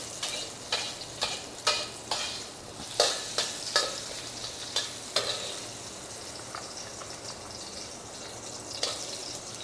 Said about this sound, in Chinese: 葱啊，跟这个蒜米去炒一下，炒一下哈